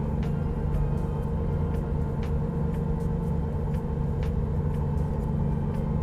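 A Volvo truck engine drives in American Truck Simulator, giving a steady, loud, low rumbling drone that holds an even pitch throughout with no talking.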